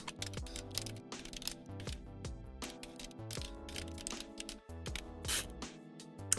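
Keys tap quickly and faintly on a computer keyboard as a search phrase is typed, the clicks sitting under steady background music.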